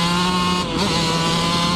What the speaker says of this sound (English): it's a strong two-stroke sound